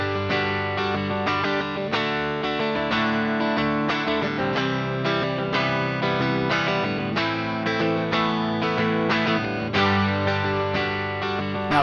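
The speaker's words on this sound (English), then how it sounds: "I'm gonna play the rhythm guitar, loop that, and then play the solo over top of it." A distorted electric guitar on a Boss ME-90 looper plays a steady, repeating rhythm pattern, looping continuously at an even loudness with no voices.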